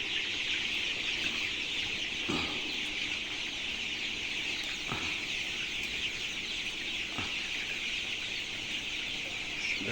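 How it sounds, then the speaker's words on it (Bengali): A flock of Kalabat chickens clucks continuously in a shed, with a steady chorus of calls and a few sharper clucks standing out at intervals. "আর এই কালাবাট মুরগিগুলি গরম সহ্য করতে পারে"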